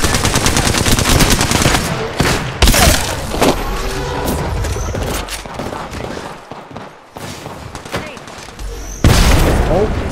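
Grenade blasts and gunfire in the video game Apex Legends, with bursts of rapid shots and heavy booms that come loud and dense, ease into quieter firing midway, then surge again near the end under background voices.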